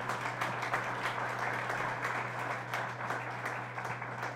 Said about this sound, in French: je vous demande de vous joindre à moi pour applaudir les lauréats et lauréates